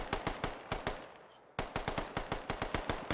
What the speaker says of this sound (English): He's shooting too fast